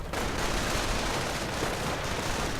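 Dense, continuous gunfire roars through a World War II strategy game battle, a loud, unbroken wall of overlapping shots and bursts with no pauses.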